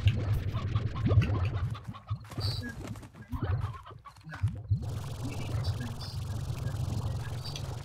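Chickens in Slime Rancher cluck in short, scattered bursts against a low steady game hum, fairly close and with no one speaking.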